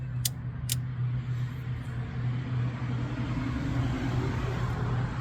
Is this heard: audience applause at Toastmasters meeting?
no